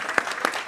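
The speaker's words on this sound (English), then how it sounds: "I think we can clap right there." Scattered audience clapping at a stakeholder and media engagement event, a few soft claps spaced out in under a second, fairly distant and light.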